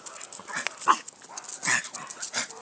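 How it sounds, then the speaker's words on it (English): A dog in a countryside garden barks and yips repeatedly at close range, short sharp barks coming in an irregular burst with some whimpering sounds mixed in. "Oh, there's a dog in that garden. You can hear it."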